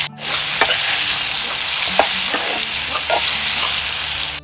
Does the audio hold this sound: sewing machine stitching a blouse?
no